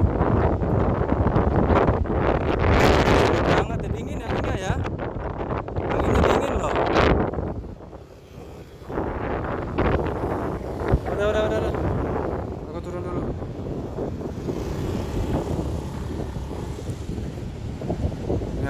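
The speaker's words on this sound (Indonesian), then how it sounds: "Sangat dingin anginnya ya." Cold wind gusts strongly across the microphone at Melasti Beach in Bali, a loud, rough, continuous roar that eases and returns. Brief talk is heard under the noise.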